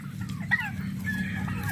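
A large young backyard chicken gives a few short clucks up close in a yard also holding turkeys and ducks, over a low steady rumble.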